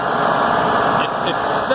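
A Massey Ferguson 2705e tractor engine runs with a steady, dense rumble and hum, loud and close throughout, with voice-like sounds mixed in.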